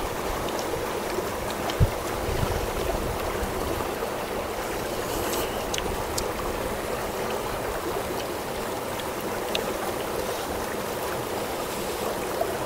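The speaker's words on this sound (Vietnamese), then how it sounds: "mình được nghe tiếng suối róc rách" A babbling mountain stream rushes in a steady, close, unbroken wash of water, with no voices present.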